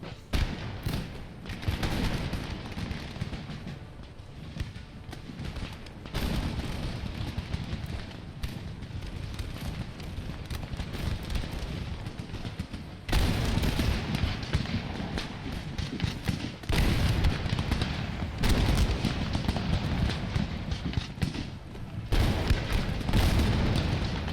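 Artillery guns and musketry in an Empire Total War battle: a continuous barrage of deep booms and thuds layered with crackling gunfire, rolling and dense, growing louder partway through with heavy bursts that merge into a constant battlefield roar.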